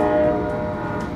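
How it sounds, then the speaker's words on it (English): A train horn sounds near Dallas Love Field in Dallas, Texas, a steady loud harmonic blast sustained through the whole short stretch without pause, with no voices. "with a train horn to bid us good night from Dallas Love Field in Dallas, Texas."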